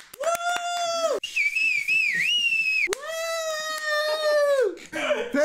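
Loud, close whistling in long sustained tones that slide and waver in pitch, three separate phrases with short gaps, ending in a noisy burst; no talking over it.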